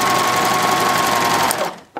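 A serger sewing machine stitching a seam with bias binding, a fast steady mechanical whir close by that runs for about a second and a half and then stops abruptly.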